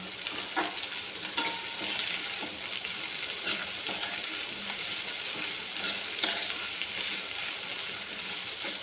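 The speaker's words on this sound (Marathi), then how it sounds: "ह्याला हलवून घ्यायचं थोडं परतून द्यायचं चांगलं" Chillies sauté in a pan for a yogurt chilli recipe, a steady bright sizzle with frequent stirring scrapes running through the whole clip, close and fairly quiet.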